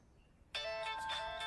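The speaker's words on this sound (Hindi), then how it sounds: "ये उसी का फोन है।" A mobile phone ringtone starts abruptly after a quiet moment and rings on steadily as a bright electronic tone, close and fairly loud, with no speech over it.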